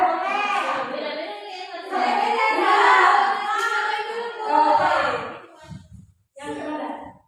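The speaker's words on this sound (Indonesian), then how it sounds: "Tepuk semangat." A group of adults at a teachers' positive-culture training session chant the rhythmic tepuk semangat cheer in unison, loud overlapping voices in short bursts with brief pauses, and clapping mixed faintly beneath.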